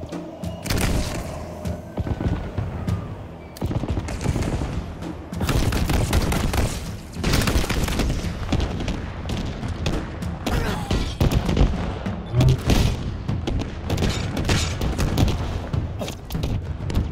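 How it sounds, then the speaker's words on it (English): Airstrike explosions and rapid gunfire in Halo Infinite fill the scene, with dense, continuous booms and volleys of shots rolling on loudly without a break from start to finish. "if you manage to press all three buttons, a airstrike will happen, taking out loads of enemies down below"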